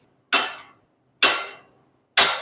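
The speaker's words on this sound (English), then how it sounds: "get your hammer." A hammer strikes a wheel with a bad face bend: three sharp, ringing metallic blows, close and loud, evenly spaced with quiet gaps between them, each tailing off quickly.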